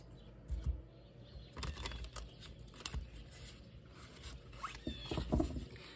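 Tarot cards being shuffled by hand, soft, close riffling and patting bursts in a quiet room, faint and irregular with brief pauses between passes.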